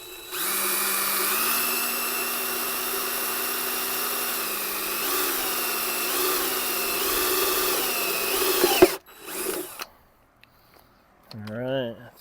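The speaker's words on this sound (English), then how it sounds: "Make sure the drill's going in the right direction." A power drill bores into a steel ammo can being made into a firebox. The close, steady whine dips in pitch under load for about nine seconds, then stops, followed by a brief clatter and a short squeaky rising sound.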